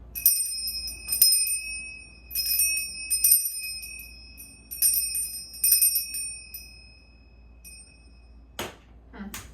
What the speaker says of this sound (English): Sometimes I ring that bell and it has a really nice crisp sound